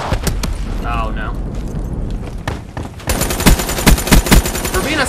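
Submachine gun fire in the Black Ops 3 shooter: rapid automatic bursts crackle under ongoing game noise and a talking voice, growing louder and denser in the final seconds with repeated sharp volleys.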